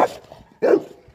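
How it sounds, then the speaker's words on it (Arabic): Dogs at a farm at night, heard as two short barks about half a second apart, fairly close and loud, over a faint rustling background. "هنا مزرعه فيها كلاب كتير"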